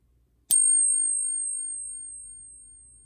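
A counterfeit half dollar flicked with a finger gives one quick metallic tap, a bright, pure ringing tone that lingers and decays gradually, with faint low rumble in the background.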